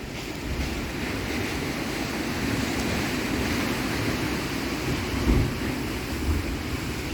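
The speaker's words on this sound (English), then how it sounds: "Welcome to the Pacific Ocean." Pacific Ocean surf rolls and washes ashore in a steady roar, with gusty wind buffeting the microphone and a slightly stronger surge near the end.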